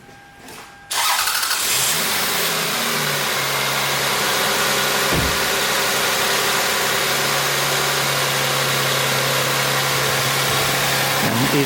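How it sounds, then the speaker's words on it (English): A car engine cranks and catches, then settles into a steady, loud idle that hums on continuously, with a brief knock partway through, during a battery and alternator charging check. "I will start up the engine"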